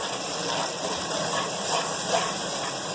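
Garlic and ginger fry in a pot of whole garam masala spices for Sindhi biryani, giving a steady, even sizzle and hiss that holds close and constant throughout, with no talking.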